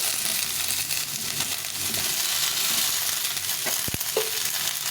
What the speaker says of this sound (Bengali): বেগুনটা কিছু ভেজে নেব